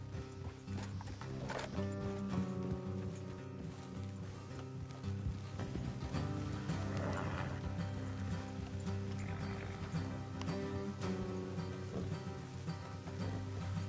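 Steady hooves clip-clop at an even walking pace in Red Dead Redemption 2, close and continuous, with a horse whinnying briefly over a dense, rumbling backdrop.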